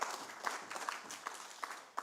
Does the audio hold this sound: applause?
yes